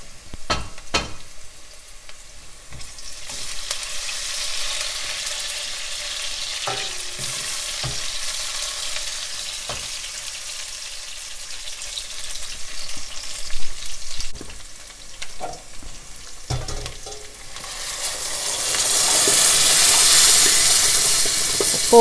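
Onion frying with salt in a pan for sambar, a vegetarian lentil soup: a steady close sizzle with occasional stirring clatter that swells into a louder hiss near the end, with no speech.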